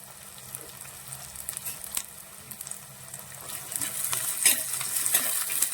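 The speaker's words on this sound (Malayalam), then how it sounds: "ഈ കുടംപുളിയും കൂടി ഇട്ടാണ് നമ്മൾ ഇളക്കുന്നത്" Shallots and green chillies with kudampuli are stirred in a frying pan, light scraping and gentle frying sizzle building slightly louder toward the end, with no voices.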